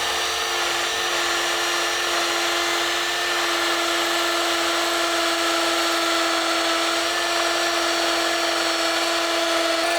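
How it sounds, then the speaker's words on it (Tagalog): Brushless cordless impact drill in hammer mode boring into stone, a loud, steady high-pitched whine with a constant buzzing hammer rattle, sustained without pause and no voices. "Baon na baon yung cordless impact drill na brushless po yan."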